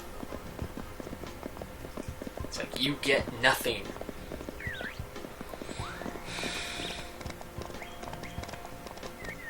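Horse hooves clip-clop steadily in the PS1 video game Mary-Kate & Ashley Winner's Circle while riding a trail, a rapid rhythmic patter under people talking, with a brief whinny-like sound partway through.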